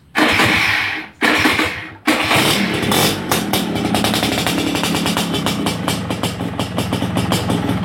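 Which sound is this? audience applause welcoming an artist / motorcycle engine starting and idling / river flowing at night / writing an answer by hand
motorcycle engine starting and idling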